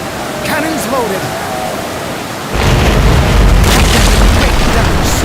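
Ship cannons fire a broadside in the naval strategy game Commander: Conquest of the Americas, a loud sustained boom and rumble swelling at mid-clip over earlier softer battle noise, with speech heard faintly beneath.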